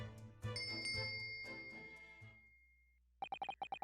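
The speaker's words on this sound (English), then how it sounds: "Yes, it's a bell cord." A bell cord tugged in The Great Ace Attorney video game sets off a bright chiming bell ring that decays, followed by a quick series of short repeated electronic tones, with no talking.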